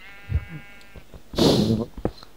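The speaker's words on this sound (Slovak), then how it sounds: "Koľko oviec tu je?" A sheep bleats once in the Minecraft video game, a short nasal bleat standing out after some faint talk and small sounds.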